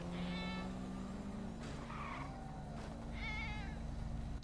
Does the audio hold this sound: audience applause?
no